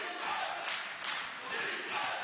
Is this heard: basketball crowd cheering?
yes